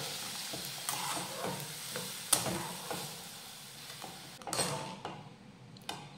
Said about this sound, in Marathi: आता तुपावर ही वरई भाजून घेऊयात